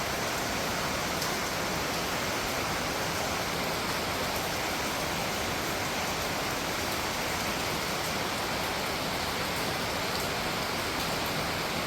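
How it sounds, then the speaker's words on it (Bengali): Steady, dense rain pours down through the morning after falling since midnight, a continuous even hiss and patter that stays at one level throughout, with no voices. "মাঝরাত্রি থেকে বৃষ্টি হচ্ছে, দেখো"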